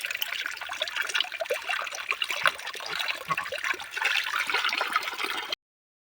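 Water from a mountain spring in a forest streams and trickles steadily and close, a continuous splashing wash that cuts off abruptly near the end.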